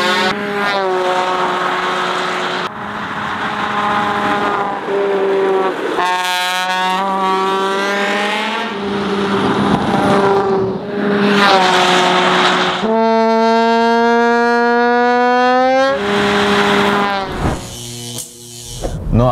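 Simulated rally car engine sound played through a Hyundai Kona Electric, a loud droning roar that revs and shifts in pitch over about twenty seconds with rising whines, close and continuous.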